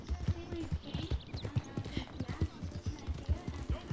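Horse hooves clip-clop in steady, evenly spaced beats at a trot during a horse theft in Red Dead Redemption 2, loud and close over a faint background bed.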